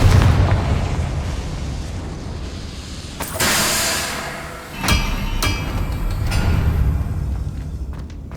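Confringo explosion spells go off in the video game Hogwarts Legacy, several booming bursts with sharp cracks over a dense, rumbling game soundscape.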